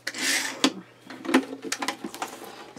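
Excess material being trimmed off a handmade stamp storage piece, close rubbing and scraping cuts with a few sharp clicks in an uneven rhythm, with no talking.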